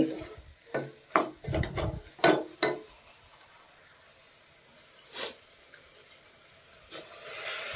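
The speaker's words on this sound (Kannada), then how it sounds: "ಇದಕ್ಕೆ ಈಗ ನಾನು ನೆನೆಸಿಟ್ಟಿರೋ ಅಕ್ಕಿನ ಹಾಕ್ಕೋತೀನಿ" Soaked rice tipped into a pressure cooker over a turmeric-seasoned mix for vangi bath: a quick run of scraping, pouring rustles in the first few seconds, then a couple of faint isolated knocks, with no talk.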